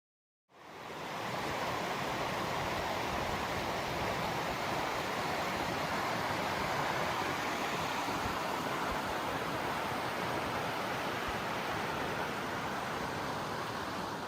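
Milk Creek rushing along the Pacific Crest Trail in Oregon, a loud, steady roar of fast water that fades in quickly and then holds unbroken and close throughout.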